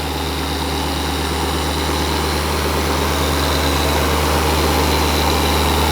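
Dual action polisher running with a microfiber pad, a steady loud whirring drone with an even oscillating buzz, close and unbroken throughout, with no voices.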